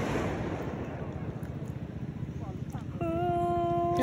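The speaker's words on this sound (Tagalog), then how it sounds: "Nadala ng alon." Sea waves wash and recede at a beach during a swim, a steady broadband rush that fades, then a sustained tonal sound near the end, with voices around.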